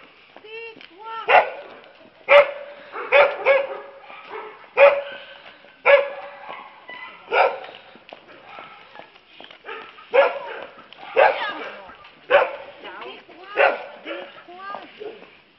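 A dog barks close by in sharp, loud bursts, about a dozen barks and yips in uneven clusters separated by brief quiet gaps.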